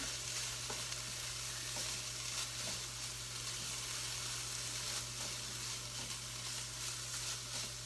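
Turkey sausage fries in a pan, giving off a constant close sizzle with faint crackles and occasional stirring scrapes over a low steady hum.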